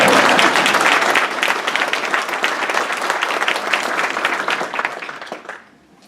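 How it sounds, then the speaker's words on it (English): Audience at a township committee reorganization meeting breaking into sustained applause, a dense wash of clapping that holds steady for several seconds and then tapers off quickly to near silence. "I think a special round of applause for John's daughter"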